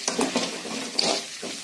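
Ginger, garlic, onion and curry leaves frying in a pan for fish curry, a steady close sizzle with soft stirring scrapes and a brief clink, no talking.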